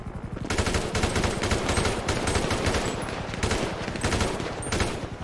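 Rapid machine gun fire rattles in a shooter video game, with dense, continuous bursts of shots punctuated by brief gaps, loud and close throughout.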